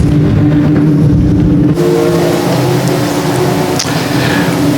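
Ontario Legends Series race cars, some with air-cooled and others with liquid-cooled engines, circle the track at Sauble Speedway, producing a loud, continuous, unbroken engine roar with no voices.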